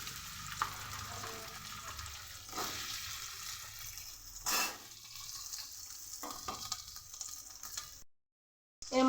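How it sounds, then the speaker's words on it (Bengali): Boiled jackfruit seeds hit hot oil in a wok, giving a steady close sizzle and crackle with stirring scrapes, then a brief silence near the end. "আমার তেলটা গরম হয়ে গেছে, আমি দিয়ে দেব এর মধ্যে কাঁঠালের সিদ্ধ করা দানা।"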